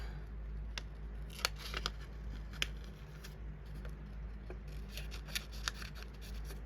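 Scissors trimming the excess from a cardstock flower, a handful of sharp, quiet snips spaced irregularly over a low steady background hum.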